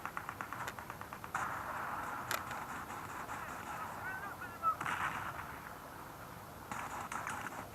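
Gunfire in the Battlefield 4 video game: bursts of rapid automatic shots and heavy blasts over a sustained rumble, at moderate to low level, with no talking.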